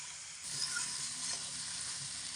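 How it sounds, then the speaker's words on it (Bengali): Spices frying in oil rendered from goat meat, giving a steady, close sizzling hiss that runs unbroken through the clip with no talking. "মোটামুটি 2 মিনিট সময় মতো তেলের মধ্যে দিয়ে মশলা দিয়ে ভালো করে কষিয়ে নেব।"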